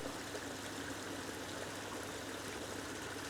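Water from a small garden waterfall pours and splashes in a steady, unbroken rush, a constant close wash of flowing water with no voices.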